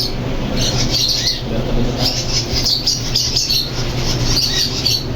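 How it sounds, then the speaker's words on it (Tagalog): Several pet parrots squawk and chirp repeatedly at close range, their harsh calls overlapping continuously against a steady background hum. "Ito na po yung ibon."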